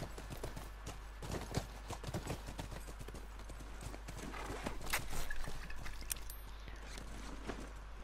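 Steady clip-clop of horse hooves at a trot in the video game The Last of Us Remastered, close and continuous, with a brief whinny partway through.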